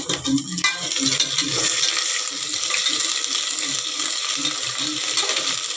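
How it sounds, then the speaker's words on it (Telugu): Ginger garlic paste frying in a pan while cooking bagara rice, with a continuous sizzle and repeated scraping stir strokes close by, no voices. "ఫస్ట్ ఇవన్నీ వేగిన తర్వాత ఇందులో అల్లం వెల్లుల్లి పేస్ట్ 2 స్పూన్లు వేసుకొని దీన్ని కూడా పచ్చివాసన పోయినంత వరకు బాగా వేపుకోవాలన్నమాట"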